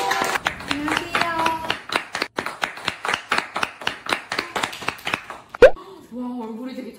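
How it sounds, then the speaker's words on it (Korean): A small group gives sparse, rhythmic clapping to welcome a young model, with individual claps clearly spaced and people talking over it before a voice follows at the end. "박수 모시겠습니다"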